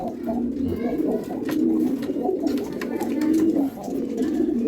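Pigeons cooing close by in a pigeon loft, soft, repeated low rolling calls, with faint rustling and background noise.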